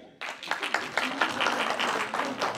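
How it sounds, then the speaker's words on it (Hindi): An audience claps in a burst that starts abruptly and holds at a moderate, fairly even level for a couple of seconds, with distinct individual claps standing out from the crowd. "आप में से जिनको लगता है ये जीतेंगे वो लोग ताली बजाएंगे"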